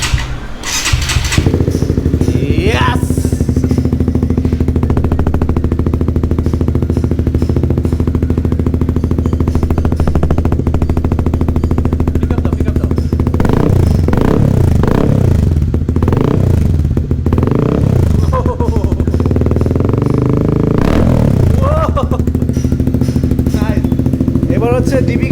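A Honda CBR 150R (2021) fitted with an R9 Zeta-R exhaust starts up and settles into a loud, steady idle, with a few sharp revs midway, heard close alone throughout.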